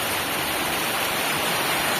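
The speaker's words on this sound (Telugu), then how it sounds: "ఫుల్ అంటే ఫుల్ వర్షం వస్తుంది అనమాట" Heavy rain pours down in a village, a dense, steady, broadband roar that stays unbroken and fairly loud throughout with no voices.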